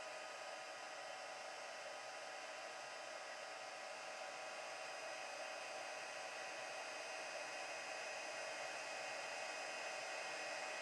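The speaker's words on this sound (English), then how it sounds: "All right, so now I'm going to bring my heat tool again. I'll just heat that up." Heat tool melting embossing powder in a papercraft project, a constant close airy fan roar with a steady electric hum, unbroken throughout.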